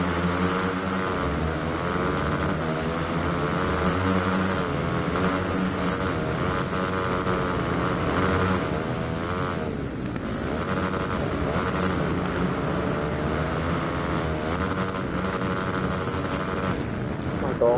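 Steady drone of a KTM 450 four-stroke motocross bike engine in the video game MXGP Pro, continuous and buzzing with slight pitch wavers, held at an even loudness throughout.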